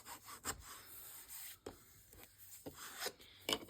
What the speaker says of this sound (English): Give it a burnish down to spread the glue